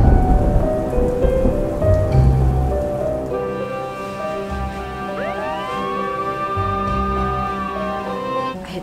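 A thunderstorm outside: steady rain patters loudly on surfaces while low thunder rumbles early on, and long, rising and falling siren-like tones come in partway through. No one speaks.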